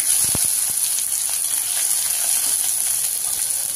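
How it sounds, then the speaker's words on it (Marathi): A large, finely chopped onion fries in oil with garlic already turned reddish, giving a steady close sizzling hiss with a few quick stirring clicks near the start. "कांदा सुद्धा आपल्याला एकदम लालसर असा भाजून घ्यायचा आहे"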